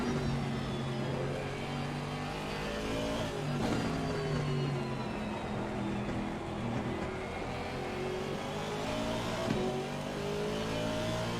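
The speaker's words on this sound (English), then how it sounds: "That's a view from Kaki's Aston Martin. Distinctive sound." An Aston Martin race car drones steadily on the Zandvoort circuit, heard from on board. The engine is continuous and moderately loud, with pitch rising and falling as it revs through the gears, and no talk over it.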